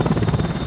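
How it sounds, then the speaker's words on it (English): Merlin helicopter landing on the deck of the aircraft carrier HMS Ark Royal during her final voyage, a close, loud, steady rotor and engine roar with low thudding blade beats throughout, no voices. "a Merlin helicopter becomes the last to ever land on"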